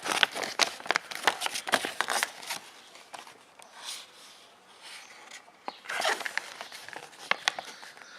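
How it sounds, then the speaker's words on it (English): A large paper instruction sheet for a watt meter and power analyzer is unfolded and handled up close, giving repeated crisp crackles and rustles in two busy bursts with a quieter stretch between them. "It has a big piece of paper."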